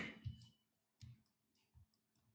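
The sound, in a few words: computer mouse clicking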